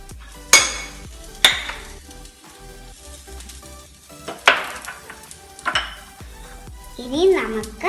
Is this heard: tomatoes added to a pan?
yes